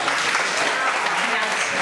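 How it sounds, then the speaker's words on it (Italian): An audience claps steadily at a 2011 Valdarno talent show, a dense, continuous wash of applause heard up close with no pauses or talk over it. "quindi fatele un bel applauso."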